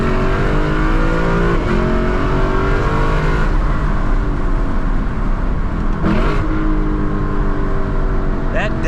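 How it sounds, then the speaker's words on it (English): Lexus LC 500 accelerating hard, then downshifting from third to second gear at around 50 to 60 mph, a loud close engine roar with climbing revs and a sharp blip, continuous without talk. "That downshift right there is so aggressive. That is from third gear to second gear, anywhere from 50 to 60 miles an hour."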